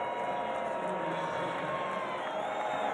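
Football stadium crowd at an Arizona vs Colorado game, a steady loud roar of many voices with scattered cheers and whoops filling the whole stretch, sustained and dense without a break.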